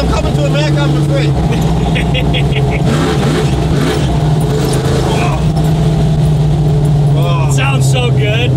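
A big American car with a 9.3-liter engine and drum brakes drives at speed, its deep engine drone running steadily and rising in pitch at moments, with people talking inside the cabin.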